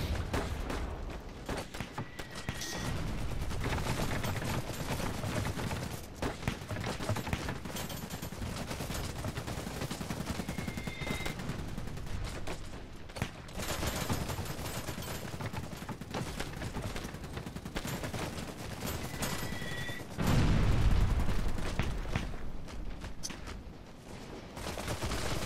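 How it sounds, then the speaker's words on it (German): Infantry squads in Iron Harvest trade continuous gunfire, with rattling rifle and machine-gun bursts crackling in dense volleys across the battlefield and a heavier burst near the end. "Hier knallen sich alle ab, ohne dass was passiert. Da liegen meine Infanteristen und schießen einfach auf irgendwas."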